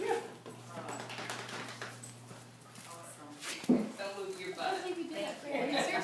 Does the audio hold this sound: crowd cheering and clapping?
no